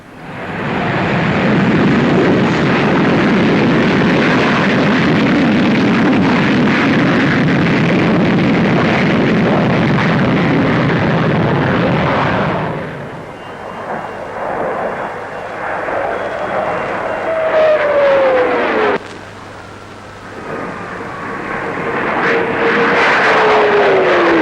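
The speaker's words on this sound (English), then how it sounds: "what's rumoured to be the fastest aircraft in the show, the Vickers Supermarine 510," A Vickers Supermarine 510 experimental supersonic jet flying past at the Farnborough air show in the 1950s, a loud roaring rush that fades partway through and leaves a thinner, whining engine tone.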